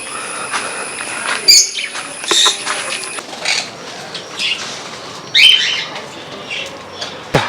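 Pigeons kept in new breeding cages, a few short wingbeat bursts and flutters with scattered chirps over a quiet background and faint insect hum, close and intermittent.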